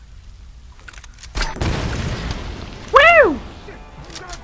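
Grenade launcher blasts go off in the Tomb Raider video game, with a booming hit and then a second sharp burst. An excited voice whoops over the action.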